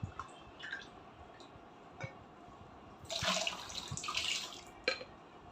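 Sugar water being poured into a fermenting tuak mixture, heard as a faint trickle and then a louder, splashing pour in the middle that tails off, with a few small knocks around it.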